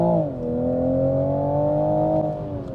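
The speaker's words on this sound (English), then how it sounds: "Another point I like about this car is the sound of it, because of the straight six engine" A 2023 Toyota Supra's 340 hp straight-six engine revving at full throttle in sport mode, a smooth rising and sustained harmonic drone, loud and close, with no talk.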